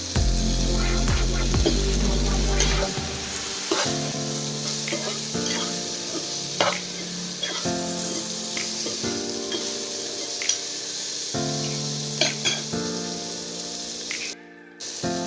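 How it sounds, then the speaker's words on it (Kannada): Mint, coriander and tomato frying in a pan for a village-style chicken curry, a steady broadband sizzle running throughout with a low hum underneath, occasional utensil clinks and a brief dropout near the end. "ಈಗ ಪುದೀನ ಕೊತ್ತಂಬರಿ ಎಲ್ಲ ಚೆನ್ನಾಗಿ ಫ್ರೈ ಆಗಿದೆ ಈಗ ನಾನು ಇದಕ್ಕೆ ಟೊಮ್ಯಾಟೊ ಆ್ಯಡ್ ಮಾಡ್ಕೊತಾ ಇದ್ದೀನಿ"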